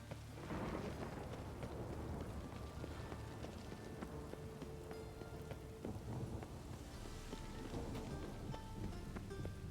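Steady rain pours down with rumbles of thunder in a stormy scene from The Witcher 3, a dense, continuous wash of drops that stays loud and unbroken throughout.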